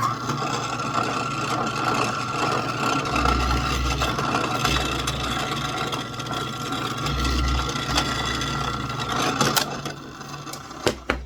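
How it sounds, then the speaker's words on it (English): A drill bores a pilot hole in wood for a scroll-saw blade while making a toy farm tractor, a steady whirring motor hum that swells in two heavier bursts as the bit bites, ending with a few small knocks. "I'm just going to drill a pilot hole here for my blade."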